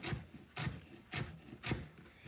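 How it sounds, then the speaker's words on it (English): A knife chops fresh carrot greens on a cutting board in a kitchen, four close, evenly spaced scraping strokes at a quiet level with short pauses between. "So I am just chopping up these carrot leaves"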